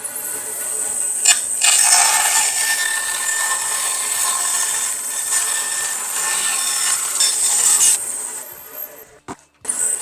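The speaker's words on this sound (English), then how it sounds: "I think I need to clean up some of these edges on the bandsaw a little bit on the other side." A bandsaw trims the edges of wooden pieces for model railroad layout benchwork, giving a steady, loud cutting whine for about eight seconds that cuts off abruptly, leaving brief clatter at the end.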